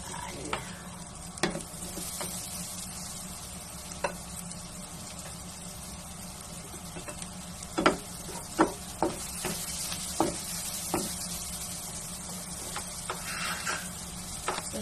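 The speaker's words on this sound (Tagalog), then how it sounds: "Saute lang natin yan. Bawang saka onion." Garlic and onion sauté in a pan, giving a steady close hiss of oil broken by sharp clicks of a utensil against the pan, with no talk.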